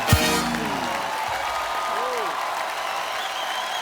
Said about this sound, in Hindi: फिर एक बार जोरदार तालियां हो जाए